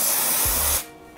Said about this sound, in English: what I like to do is add some spray adhesive